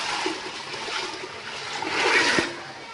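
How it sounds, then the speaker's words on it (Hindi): Soaked black chickpeas and their water pour and splash steadily into a metal pressure cooker, with a brief surge of gushing near the end and a soft clunk. "6-7 घंटे भिगे हुए काले चनों को पानी समेत प्रेशर में डाल दें।"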